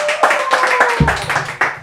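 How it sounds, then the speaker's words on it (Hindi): Audience clapping on a Hindi talk show, a short burst of sharp, distinct hand claps in quick irregular rhythm, fairly close, with a voice briefly underneath. "जोरदार तालियां एक बार फिर से हो जाए।"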